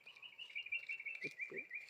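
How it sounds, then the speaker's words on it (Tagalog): A small bird trills in a rapid, continuous chirping run, faint and a little distant, with a couple of soft low thumps in the background. "May ibon, no?"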